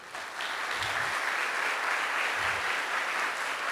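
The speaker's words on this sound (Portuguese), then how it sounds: "Pode aplaudir." A church congregation applauds steadily, a dense wash of clapping from a full room with a couple of faint low voice murmurs beneath it.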